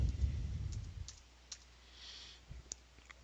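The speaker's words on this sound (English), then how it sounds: "So I will click on Save Gmail." A computer mouse clicks a few times, faint sharp ticks spaced apart in a quiet room, after a short burst of low rumble at the start.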